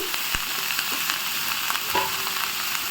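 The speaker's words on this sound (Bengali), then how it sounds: "এখন হচ্ছে তেলের মধ্যে সমস্ত সবজিগুলোকে আমি দিয়ে দিচ্ছি" Mixed vegetables dropped into hot oil for fried rice sizzle steadily and closely, a continuous crackling hiss with a few sharper pops and a brief utensil scrape.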